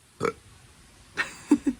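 A short burp, a pause, then a few more quick burps in succession, fairly close and moderately loud.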